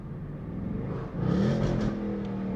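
A Ford Mustang GT V8 engine revs up sharply and holds a high, rising whine for about a second before settling back, close and loud.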